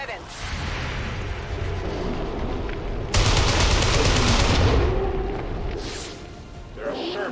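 A loud, sustained video game explosion rumbles with a dense roar and rapid crackling bursts like gunfire, peaking midway and fading before a brief swell at the end.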